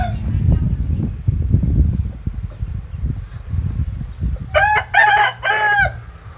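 A rooster at a rural Thai home crows three times, loud and near, over constant low rumbling noise and faint clucking from the flock.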